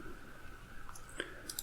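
A computer mouse gives a short, faint right-click, with a couple of small sharp clicks over a quiet hum.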